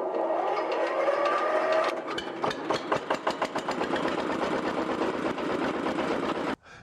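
A two-wheel walking tractor's engine, started by key with the decompression valve, cranks for a couple of seconds, then catches and settles into a steady, fast, rhythmic knocking idle close by, cutting off abruptly at the end.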